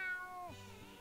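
A single clear meow from the snail in the SpongeBob Movie video game, a short cartoon cat-like call that slides downward and ends in a low purr-like tail, close and alone.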